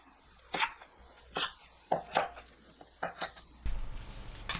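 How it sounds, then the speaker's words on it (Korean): Knife cutting hijiki seaweed stems into short pieces on a board, five sharp separate chops spaced about a second apart, close and crisp, followed by a softer rustling scrape. "2cm 간격으로 썰어주세요."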